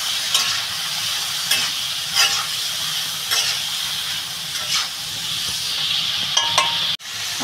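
Prawns with kushi and spices including coriander, cumin and chilli powder stir-frying in a pan, with a steady loud sizzle and hiss and periodic scraping stirs of a spatula, no voices.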